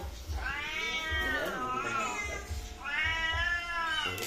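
House cats meow at feeding time with cat food being served, repeated drawn-out close meows in two main bursts over quiet room noise.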